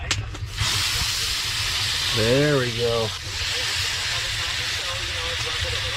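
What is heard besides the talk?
steaks frying and sizzling in Roblox video game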